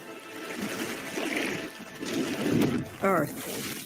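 A water effect from the Avatar: The Last Airbender live-action intro: rushing, swirling water with a splashy surge, heard at moderate level among music and other effects, with a voice speaking over it.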